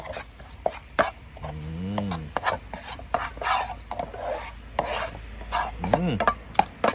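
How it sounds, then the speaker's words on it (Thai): Garlic and shallots are stir-fried in butter in a pan while cooking baked cheese shrimp, giving a steady close sizzle with scraping and tapping of a utensil and a couple of brief rising tones. "หรือกระเทียมซับ ใส่ลงไปครับ แล้วก็ผัดให้หอมนะครับ"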